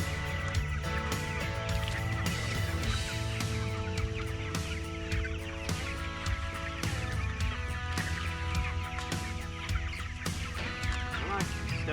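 Chickens being moved along by a chicken tractor on a homestead, with constant close clucking and squawking from a flock over a steady low rumble.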